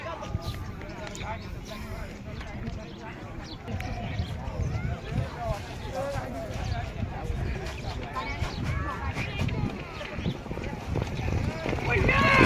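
Horses pulling tonga carts in a village fair race clip-clop along in rapid hoofbeats that grow louder toward the end, under constant crowd noise and voices.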